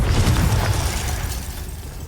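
Confringo fire spell going off in Hogwarts Legacy, a loud booming blast with a heavy low rumble that swells in the first half second and then fades into a crackling tail.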